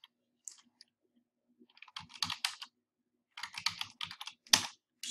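Keys tapped on a computer keyboard while entering a folder name, two quick bursts of clustered clicks separated by a short pause, close and crisp with no voices.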